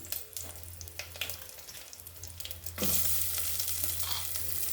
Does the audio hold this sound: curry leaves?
yes